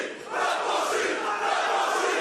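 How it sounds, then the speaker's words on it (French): A fight night crowd at a 65 kg title main event roars and cheers for a favourite fighter, a dense, sustained wall of voices filling the arena and swelling slightly after a quieter start. "la foule qui a son favori, je crois"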